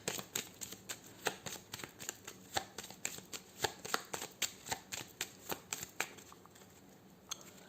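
A deck of playing cards shuffled by hand for a card reading, a rapid, even series of crisp close riffles and flicks, with a few cards slipping and falling, and no talking.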